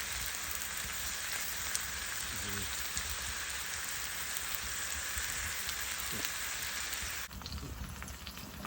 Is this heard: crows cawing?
no